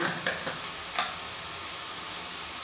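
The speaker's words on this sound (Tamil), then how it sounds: "நல்லா எண்ணெயில் கொஞ்சம் வதக்கிட்டேன் இப்போ வந்து மிளகாய் தூள் போட்டு போகிறேன்" Onions sautéing in oil with chili powder make a soft, steady sizzle, with a few spoon scrapes in the first second before a gentle continuous hiss.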